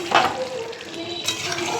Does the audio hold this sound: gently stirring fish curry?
yes